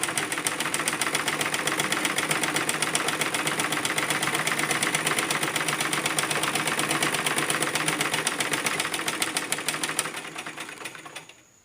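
A sewing machine runs at steady speed, its fast, even mechanical stitching rattle close and continuous for about ten seconds before slowing and winding down at the end, with no talk.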